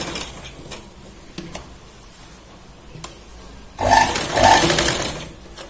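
A sewing machine stitches pleated fabric on salwar pants, a short close burst of mechanical whirring near the end after quiet handling noises.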